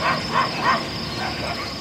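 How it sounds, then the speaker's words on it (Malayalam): Dogs barking and yelping at night in a dark Yemeni town, several bursts at mid distance over a steady background hiss. "രാത്രി മുഴുവൻ പട്ടികളുടെ കുരയും ഓരിയിടലുമാണ്."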